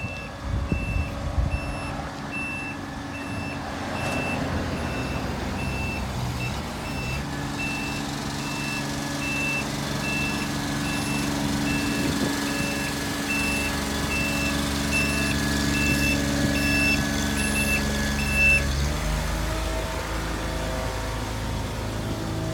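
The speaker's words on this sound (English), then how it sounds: "So now he's dumping the bed." A 2006 C7500 forestry bucket truck dumps its bed, a steady idling diesel with a rising hydraulic whine, repeating reversing beeps and clunks near the start, continuous and close for over twenty seconds.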